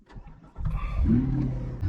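A Chevrolet C8 Corvette engine starts up close by, a short crank followed by a rising, steady idle rumble.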